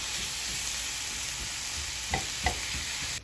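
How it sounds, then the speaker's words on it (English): Ground beef browns in a pan with a continuous crackling sizzle. A couple of soft scraping knocks mark the meat being broken up and stirred. "And we're gonna brown our beef and make sure to break up your beef."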